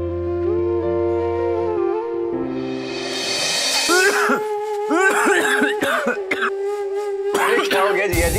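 A person laughing breaks into a string of harsh coughs mixed with choked laughter, several close bursts in a row after a passage of soft background music.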